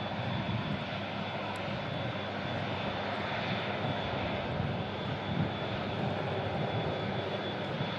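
Engine roar of an approaching Icelandair airliner, a steady, moderately distant drone holding throughout with a thin high whine on top.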